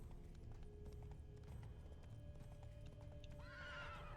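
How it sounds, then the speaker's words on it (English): Horse hooves clop steadily beneath a low rumble in the video game The Witcher, then a horse neighs loudly near the end, a high wavering whinny close by. "Horses must have gotten spooked."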